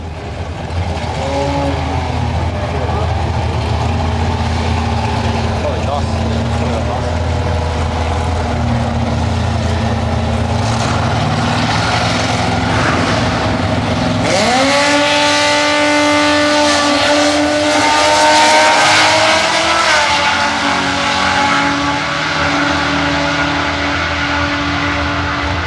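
A V8 drag racing car at a drag strip roars continuously, its engine note climbing sharply partway through as it accelerates hard, loud and close throughout.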